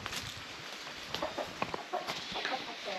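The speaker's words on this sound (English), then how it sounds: "Here's my pretty rooster." A rooster clucks and makes short calls in a busy outdoor yard, with scattered bird sounds in the background.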